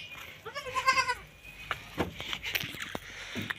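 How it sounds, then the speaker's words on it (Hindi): A young goat kid lets out one wavering, nasal bleat up close, followed by soft shuffling and scattered knocks as the animals move about. "और इधर हमारे जो है कुछ छोटे छोटे बकरियों के बेबीज।"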